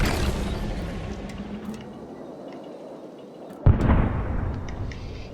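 A guided missile explodes in the building game Trailmakers, a sharp boom near the end that rolls into a rumbling blast, following a low, steady engine-like drone.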